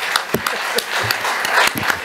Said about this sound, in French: Félicitations, voilà, applaudissements.